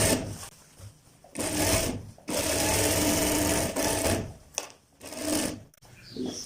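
A sewing machine stitches and backstitches a seam on a ladies' suit in several loud, close bursts of rapid whirring, split by short pauses and a sharp click near the end.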